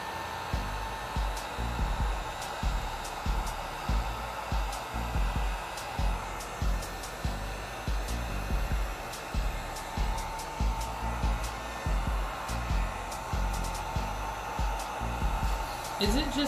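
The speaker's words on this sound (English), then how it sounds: "Is it just me, or does the heat gun smell?" A heat gun runs steadily throughout while gold-tinted resin is worked into coaster molds, a continuous blowing whir with a faint rhythmic pulsing underneath and no talk.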